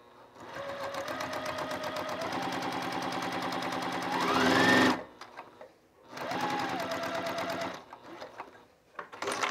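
A new sewing machine stitches fabric in rapid, close mechanical bursts, two long runs separated by a short stop, with the motor pitch rising as it speeds up.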